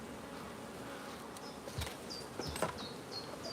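Honeybees buzz steadily around an open Langstroth hive during an apiary inspection, a dense low hum with a few louder passes of individual bees close by.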